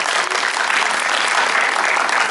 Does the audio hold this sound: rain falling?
no